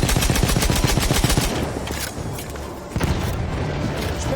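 Rapid automatic gunfire and booming shots fill a Battlefield 1 multiplayer Conquest battle, loud and dense through the first seconds, then continuing in bursts amid explosions and battlefield noise.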